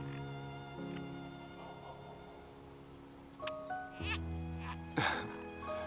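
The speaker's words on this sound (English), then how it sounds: "I hear you, Mr. Froggy. It's so warm. Frogs are out" Frogs croaking outdoors on a warm night, several steady tonal calls overlapping at a distance, with brief louder bursts from nearer frogs.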